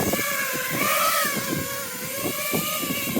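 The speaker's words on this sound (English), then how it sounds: "Bit of leaf blowing." A leaf blower runs outdoors with a steady, loud whooshing roar and a droning engine whine that wavers slightly in pitch, continuous throughout with no voices.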